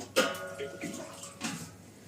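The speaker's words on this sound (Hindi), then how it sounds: "अब इसी के अंदर तकरीबन पानी 1 लीटर डाल दीजिए" About a liter of water is poured into a pot of fried chicken for biryani, starting with a sudden splash and then continuing as softer sloshing and sizzling, quiet and close.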